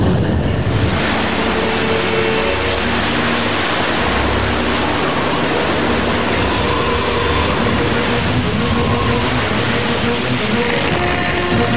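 Ocean waves crash and wash continuously in an animated show, a loud, dense roar of surf that fills the scene without pause.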